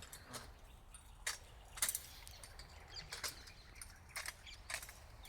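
A tree-climbing machine works its way up a palm tree in a village, giving faint, scattered mechanical clicks and creaks in uneven bursts over quiet outdoor background.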